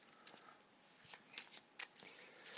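Playing cards from a WW2 tactical squad card game being shuffled by hand, a soft riffling rustle with several quick flicks and snaps, faint and close.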